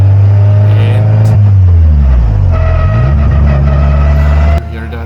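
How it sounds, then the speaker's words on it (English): A 60-year-old engine-swapped VW Beetle with a racing gearbox, driven flat out on a racetrack: a very loud, close engine roar drops in pitch through the shift from third to fourth gear, then climbs again as the car accelerates. "It's a racing gearbox in there. It makes this noise in between third and fourth."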